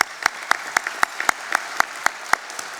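About ten sharp, evenly spaced claps, close and crisp, at a chamber of commerce annual meeting as officials are recognized, with a faint murmur underneath.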